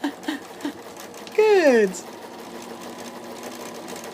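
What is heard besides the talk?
sewing machine sewing quilt strips together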